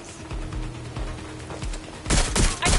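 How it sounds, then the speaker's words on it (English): Rapid gunfire in the video game Watch Dogs: Legion crackles in short bursts, muffled shots at first, then sharper, louder volleys near the end. "I'm hearing gunfire"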